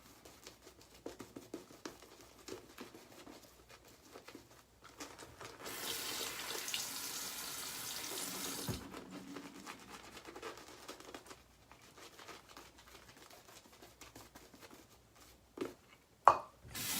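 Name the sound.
lathering shaving soap with a brush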